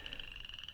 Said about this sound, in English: that's frogs you hear back there